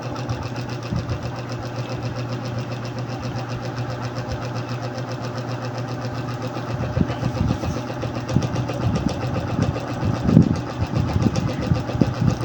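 A Yamaha Mio Soul i 125 scooter with a worn belt runs steadily at idle nearby, a continuous mid-pitched putter with light mechanical clatter that grows a bit rougher and louder partway through.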